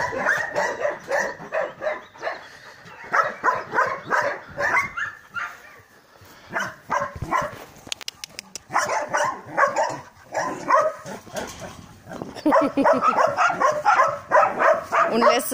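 A friendly German shepherd mix dog, about nine years old, exploring outdoors, gives repeated yips, barks and whimpers in close bursts, with short pauses in between.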